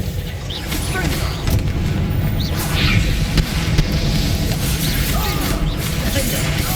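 Confringo blasting spells go off in the Hogwarts Legacy video game, a dense run of loud booms, crashes and sharp whacking impacts layered over a rumbling battle din, with bursts landing every second or so.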